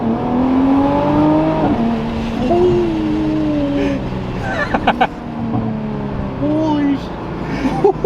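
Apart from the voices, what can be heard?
2021 Nissan GT-R with titanium exhaust accelerating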